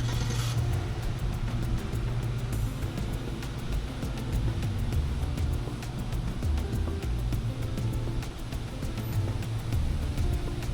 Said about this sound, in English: Just gotta pull up the truck a little bit so we can